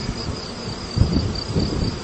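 Bees buzzing around an opened beehive, a dense steady hum with a sustained high whine and swelling low buzz as insects pass close, continuous and without talk.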